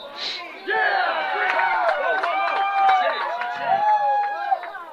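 Crowd noise at a college soccer match between the Santa Clara Broncos and Cal Poly, a sustained swell of many voices shouting and reacting together, loud and close, holding steady for several seconds.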